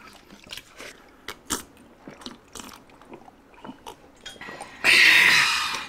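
Close-up eating of crispy seafood, including crab, at a mukbang meal: soft wet chewing clicks, then one loud, sharp crunching bite near the end.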